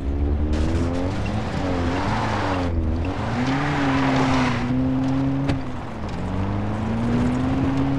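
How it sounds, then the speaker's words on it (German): Engine of a rattly old car driven in Far Cry 3, a steady loud drone with rising and falling revs and shifting pitch, broken by a brief surge of road or tire noise midway. "Wir fahren erstmal schön Auto"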